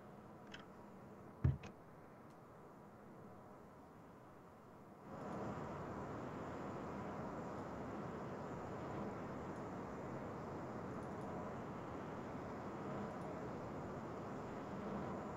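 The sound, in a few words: computer fan noise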